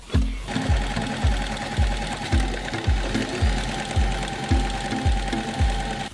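A sewing machine stitches a French seam on a fabric bulk bag, running in steady rhythmic bursts of close, loud needle chatter with regular pulsing thumps, heard alone without talk.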